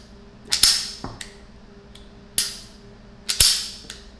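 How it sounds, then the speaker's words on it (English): Sharp metallic clicks from dry-firing the trigger of a small unloaded handgun, several crisp snaps spaced irregularly with brief rattles, close and fairly loud, no talking. "So that is how the trigger sounds."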